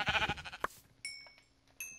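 Sheep bleat in a Minecraft game: a short burst of bleating, then brief chime-like game tones, faint and with no talk.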